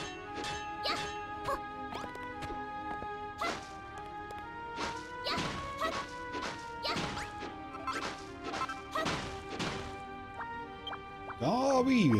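Repeated smashing crashes and thuds as sand blocks get broken in the video game Dragon Quest Builders 2, a dozen or so sharp hits in an uneven rhythm over light game music and chirpy effects.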